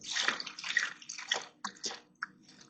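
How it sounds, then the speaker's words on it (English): Water and gold-bearing material from a bucket pour and slosh into a gold pan after a micron gold-catching sluice run, heard as a few close splashing bursts followed by short trickles and drips. "Then I'm going to empty this bucket into the pan."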